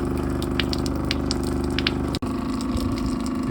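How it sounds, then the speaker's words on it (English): An RV water pump runs steadily as it pulls antifreeze through a fifth-wheel camper's plumbing during winterizing, giving a continuous droning hum with gurgling flow and a brief click midway. "pump's running, it's pulling in that antifreeze."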